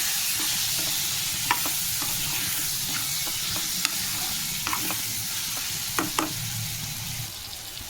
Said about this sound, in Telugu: ఒకసారి బాగా కలిపేసుకోవాలి